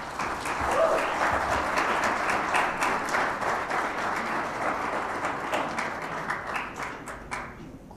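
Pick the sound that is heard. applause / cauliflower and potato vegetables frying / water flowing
applause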